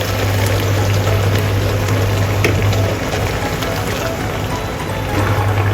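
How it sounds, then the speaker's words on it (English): Hot water poured from a bowl into a pan of stir-fried ginger and anchovies, a steady loud gush and sizzle lasting several seconds over a constant low hum. "Add a bowl of hot water once it has released fragrant."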